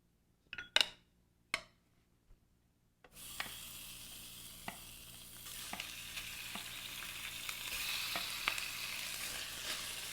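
Pork hits hot cooking oil in a pan after a few utensil clicks, breaking into a steady, close sizzle of stir frying that continues to the end with occasional scrapes and taps.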